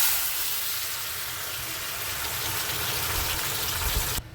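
Panch phoron spices and a dried red chili sizzle in hot oil in a wok-like pan, a steady close hiss of frying that cuts off abruptly at the end.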